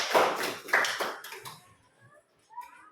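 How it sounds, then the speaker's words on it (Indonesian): Classroom applause for a student breaks out in several quick bursts of clapping, then thins to scattered taps and quiet near the end. "tepuk tangan untuk Intan"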